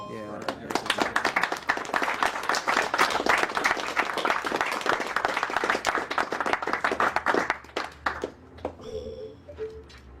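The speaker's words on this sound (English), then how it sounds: "I believe your knitting deserves a great round of applause." Steady round of hand clapping from a small group for about eight seconds, dense and close, with voices talking and laughing over it before it thins out near the end.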